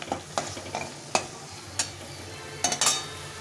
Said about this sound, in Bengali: চালটাকে আগে ভেজে নিলাম না, এটা এখন মশলার সঙ্গে ভেজে নেব।